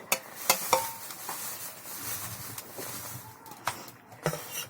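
A spatula scrapes and stirs shrimp with kalai greens in a pan, producing a few sharp clinks and a soft sizzle in a short kitchen stretch with no talking.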